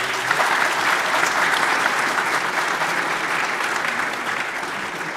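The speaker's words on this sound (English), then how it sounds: "Can we have a clapping, please?" An audience at an accountancy symposium claps steadily in a large hall, a thick continuous wash of many hands that holds level and tapers slightly toward the end.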